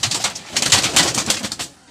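Several pigeons coo and flutter close by at a pigeon farm in a busy, continuous murmur, with no voices.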